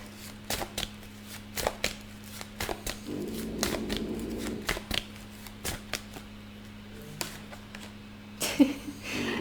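Tarot cards are shuffled up close in a quick, uneven run of crisp flicks and riffles, with brief pauses between bursts and no voices.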